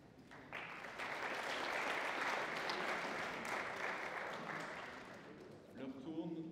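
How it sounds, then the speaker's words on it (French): Audience applause at a conference hall following a political address, a dense sustained clapping that swells in, holds for several seconds, then fades as a voice begins speaking near the end. "Vous pouvez applaudir le président de la République."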